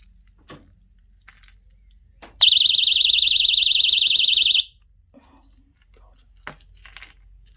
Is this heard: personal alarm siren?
yes